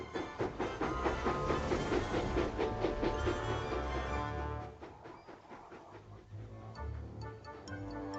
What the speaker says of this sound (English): Get this goods train over the hill, James.